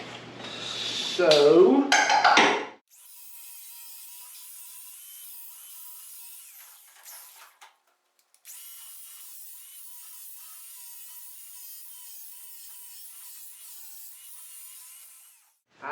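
An angle grinder with a coarse 40-grit flap disc grinds metal, giving a steady, fairly faint abrasive hiss with a faint whine that runs for many seconds with one short break. A louder, sweeping burst comes first, as the disc spins up or first bites.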